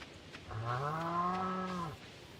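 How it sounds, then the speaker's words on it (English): A single drawn-out cow moo from the farm game Stardew Valley, a clear mid-pitched call lasting about a second and a half, heard alone without talk. "Where's the other cow?"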